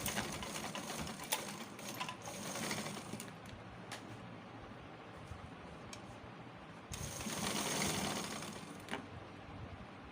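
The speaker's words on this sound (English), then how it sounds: "place it here and start sewing" A sewing machine stitches horsehair braid onto a peplum blouse in a steady, continuous mechanical whir and rattle that runs the whole time, with a short easing around the middle before it picks up full speed again.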